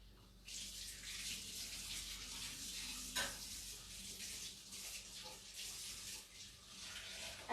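A kitchen tap runs steadily as a knife and cutting board are rinsed under it, a close, continuous hiss of water with a brief clatter partway through and no voices.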